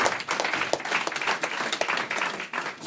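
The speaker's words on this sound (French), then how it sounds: "on peut les applaudir" Church congregation applauding during a French-language sermon, a dense, continuous wash of clapping from a crowd with a few sharper individual claps standing out.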